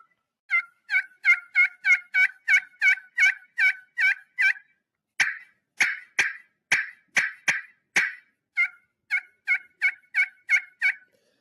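A hand-operated turkey call imitates an excited hen, giving a quick run of loud, sharp yelps, then a series of abrupt, clipped cuts, then more rapid yelps, all close and clear against silence.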